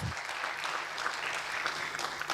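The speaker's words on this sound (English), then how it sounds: "Let's clap for progress." An audience at a law school alumni homecoming and anniversary event claps steadily, a dense, even patter of many hands at moderate volume with no voices over it.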